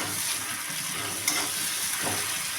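Tomato and ginger paste with salt frying in a pan for a fish and ridge gourd dish, a close, steady hiss of sizzling with soft stirring scrapes, no voices.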